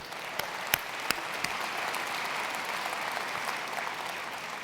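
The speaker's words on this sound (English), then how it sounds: "I think you deserve a round of applause for what you do" Applause from a conference audience honoring school board members at a national association's annual conference, steady distant clapping in a large hall with a few sharper nearby claps standing out at the start.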